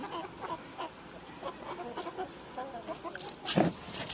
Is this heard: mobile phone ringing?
no